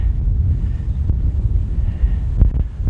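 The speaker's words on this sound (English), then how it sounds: "It's really windy." Loud, low buffeting of strong wind hitting the microphone near Twin Bridges, Montana, gusting unevenly with a couple of sharp thumps; no speech.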